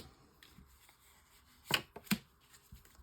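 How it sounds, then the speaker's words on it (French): Tarot cards are laid down on a table in two soft, sharp slaps about half a second apart, quiet and close, with little else around them. "je vais mettre une carte sur le 7 de bâton, une carte sur le 7 d'épée"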